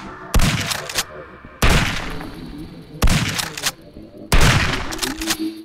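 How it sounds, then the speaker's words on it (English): Shotgun blasts in the video game Zortch, four loud booming shots at roughly even intervals, each with a short echoing tail. "I highly recommend using the alternative fire that shoots 2 rounds rather than 1"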